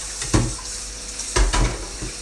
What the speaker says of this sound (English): I'm going to rinse this thing out. Okay, so using hot water